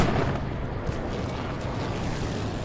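In a war video game, an artillery barrage rolls as a dense, continuous rumble of distant booms with a few sharper thuds standing out, fairly loud and without speech.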